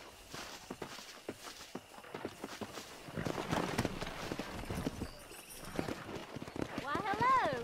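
Horse hooves in Red Dead Redemption clip-clop on the ground at a walking pace, close by, with voices talking over them and a horse-like whinny at the end.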